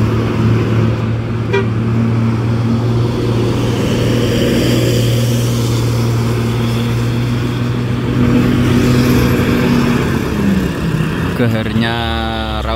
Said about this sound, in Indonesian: Geharnya raungan mesin Hino